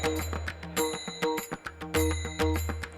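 A world peace bell rung by dignitaries at the G20 Interfaith Forum in Pune, bright metallic strikes ringing out repeatedly in an uneven rhythm, each tone lingering and overlapping the next, loud and close with no talking.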